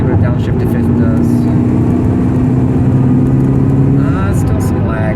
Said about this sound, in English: Let's see what a downshift to 5th does.